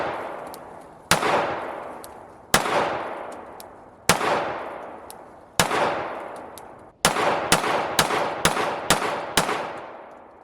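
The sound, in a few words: 9mm gunshots from Rock Island Armory RIA 5.0E pistol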